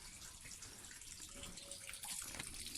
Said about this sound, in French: Écoute le ruisseau et la fontaine couler.